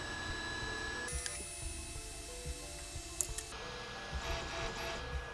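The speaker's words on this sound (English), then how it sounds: "it ejected the print just fine" A 3D printer running G-code for automatic print removal pushes a finished print off its bed, with steady motor whir, light mechanical ticks and a few sharp clacks as the part comes loose.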